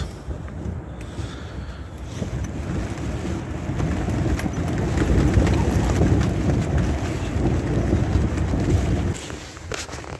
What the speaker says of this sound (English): It's a new windy day, it seems.